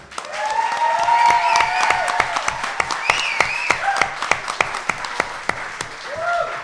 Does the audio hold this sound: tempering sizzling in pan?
no